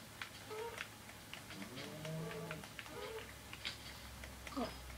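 A cow in a video game moos a few times at moderate distance, drawn-out low calls amid faint game sounds and clicks.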